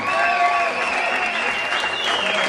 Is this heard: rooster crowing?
no